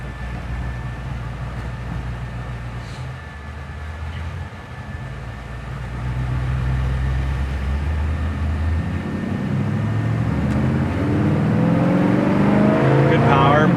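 A 1955 Chevy Bel-Air V8 idling with a deep, steady burble that thickens and rises as the engine is revved near the end, heard close with voices talking over it.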